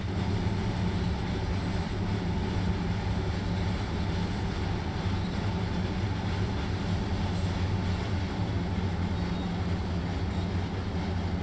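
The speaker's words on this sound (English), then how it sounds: "Well, let's stop the train." Steady rumble and wheel noise from a train in the Train Sim World 2 game on the Arosa line, a continuous even drone of a rail vehicle at moderate level with no voices.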